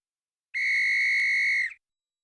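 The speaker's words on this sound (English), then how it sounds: "that is the sound of the whistle, which signifies that we have reached the end of our regular time" A referee-style whistle gives one steady, loud, shrill blast lasting about a second, marking the end of regular time, with nothing else around it.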